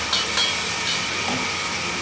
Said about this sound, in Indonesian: kita letakkan lauk, kita tumis satu kali